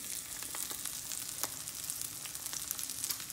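Eggs fry in a pan on very high heat, giving a steady hissing sizzle with quick scattered pops and crackles, close and fairly quiet, with no talking.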